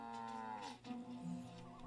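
A cow in a Ben 10 cartoon moos in a drawn-out, wavering low call, then a second shorter moo follows, clear and close with no speech.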